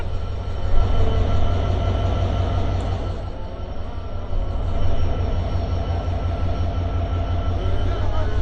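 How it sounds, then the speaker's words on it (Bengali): A train locomotive standing at Saidpur station in Bangladesh gives off a continuous low rumble with a steady rhythmic throb and faint higher mechanical tones, heard alone at close range. "আমাদের লোকোমোটিভটা এখন সৈয়দপুরে দাঁড়িয়ে আছে"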